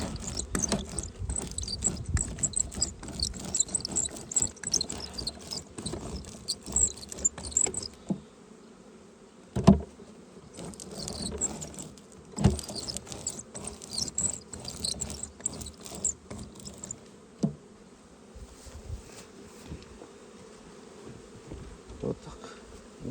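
Bees in an apiary hive make a continuous buzzing drone up close, with scattered thumps and handling noises of frames being moved, and no talk.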